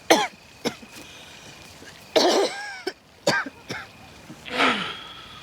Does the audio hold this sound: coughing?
yes